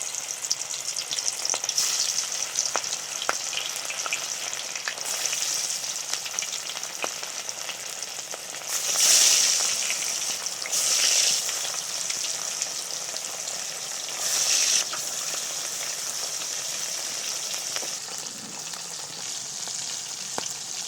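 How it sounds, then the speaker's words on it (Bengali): Pieces of a large stingray fry in hot mustard oil in an iron wok, giving a steady crackling sizzle with occasional louder bursts of spitting oil, close and alone without talk. "মাছটাকে 2 পিঠ ভালো করে ভেজে নিতে হবে।"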